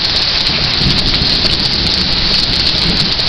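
Pouring rain at a picnic outdoors, a loud continuous wash of drops beating on nearby surfaces with a low rumbling undertone, steady throughout and free of speech.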